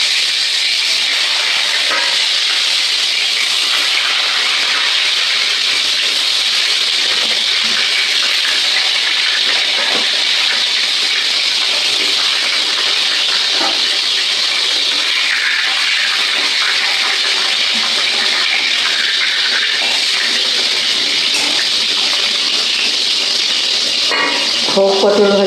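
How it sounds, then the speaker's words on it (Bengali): Slices of pointed gourd fry in hot oil in a wok, giving a loud, steady sizzling hiss that lasts throughout with small crackles on top, and no voices. "কড়াই তেল গরম হয়ে গেছে, আমি পটল ভাজা করবো। পটল ভাজাগুলো দিয়ে দিচ্ছি।"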